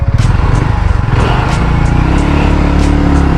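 Hero Maverick 440 motorcycle engine pulling hard under acceleration, a loud, close, steady roar with a rough low pulse that smooths out as revs climb, no talking over it.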